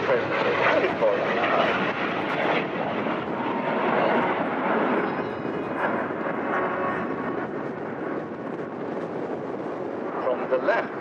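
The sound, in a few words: Frecce Tricolori jet aircraft flying slow roll at airshow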